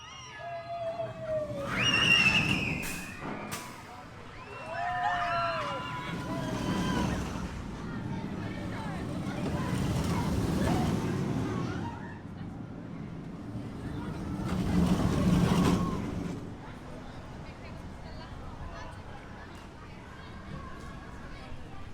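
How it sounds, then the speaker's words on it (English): Rumbling runs of the Vekoma family boomerang roller coaster Accelerator at Drayton Manor swell and fade in several waves over about twenty seconds, with voices and crowd babble around it. "So wicked little ride down here on Accelerator."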